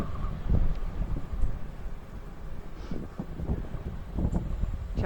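Wind gusts across a microphone on a cool beach trail, a rough, uneven rumble that swells and fades over several seconds with faint rustling.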